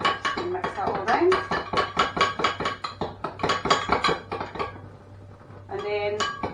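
Sweet and sour sauce being mixed in a bowl, with a spoon clinking rapidly and repeatedly against the sides in quick rhythmic bursts, pausing briefly before resuming, close and fairly loud.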